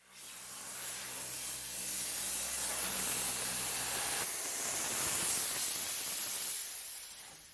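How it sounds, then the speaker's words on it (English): A steady, loud steam hiss from steam cleaning a BMW K 1600 GTL motorcycle runs continuously for several seconds, slightly dipping partway through, with no voices. "steam cleaning this motorcycle again"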